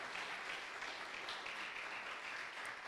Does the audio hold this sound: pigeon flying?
no